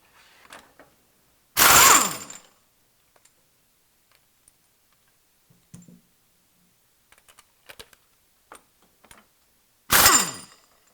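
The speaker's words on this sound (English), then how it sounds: "We're now going to remove these 2 U-bolt nuts here" Two loud bursts of a wrench, likely a power impact tool, spinning off U-bolt nuts and washers during a steering stabilizer install, separated by quieter clicks and clinks of handled parts.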